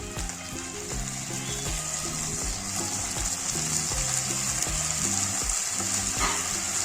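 Ginger-garlic paste frying with onions for mutton korma, a steady close sizzle running throughout with periodic scraping stir strokes and clinks of a spoon against the pan.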